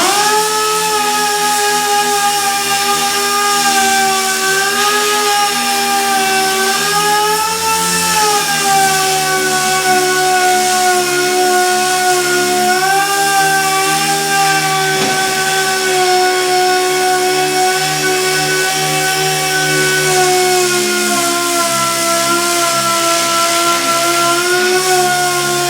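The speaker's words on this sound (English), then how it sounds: "I'm just sanding it down a little bit with some 80 grit" A power sander runs continuously with 80 grit sandpaper on a 1940 dash being fitted to a Model A coupe, a loud steady whine with a shifting pitch and no pauses.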